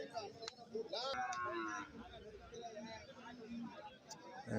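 A buffalo lows at a busy cattle market, one drawn-out moo rising over background chatter and crowd noise, with a few short knocks before it.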